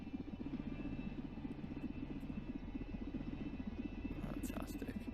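Steady whirring drone of an aircraft rotor in the Simple Planes VR game, continuous and fairly loud, with a faint higher flutter near the end.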